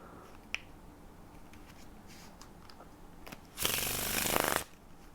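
A deck of playing cards gets a Faro shuffle, with faint taps and riffles leading into a loud, buzzing cascade of interleaving cards lasting about a second, then a quick fade.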